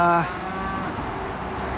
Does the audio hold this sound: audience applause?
no